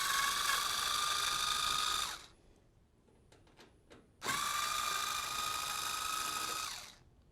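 A power screwdriver removes two screws from the vent cover of a 48-inch dual fuel oven: two steady whirring runs of about two and three seconds, separated by a short pause with faint clicks.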